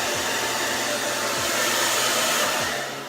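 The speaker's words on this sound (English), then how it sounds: "I go over it with the blow dryer" A hair dryer blows loudly and continuously up close over a scalp with braids, a broad rushing whir with faint rhythmic dips, easing slightly at the end.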